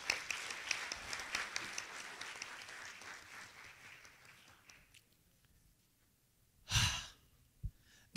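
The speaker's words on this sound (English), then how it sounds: "a hand of applause to our Chief Judge" Audience applause for the chief judge at a university capital market challenge awards ceremony in a hotel, brisk clapping that fades out over about five seconds, followed by silence and a couple of brief close noises.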